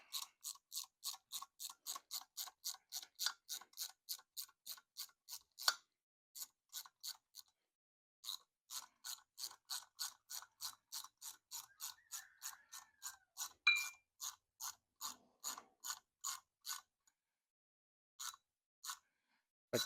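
Rapid metallic tapping and ratcheting as a fastener is tightened during a turbocharger repair, close and clear, in steady fast bursts with brief pauses and a few isolated clicks near the end.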